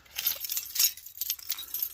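Bunch of keys jangling up close inside a van, a continuous light metallic rattle and clinking lasting a couple of seconds, fairly quiet.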